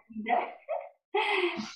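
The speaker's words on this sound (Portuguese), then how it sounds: "Cachorrinho é esse aqui, ó." A small dog gives three quick yapping barks at close range, the last one longer, with no talk over them.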